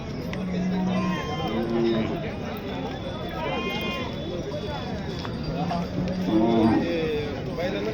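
Several deep moos from bullocks rise over a steady murmur of voices and bustle at a cattle market in Chakan, India, with people talking nearby throughout.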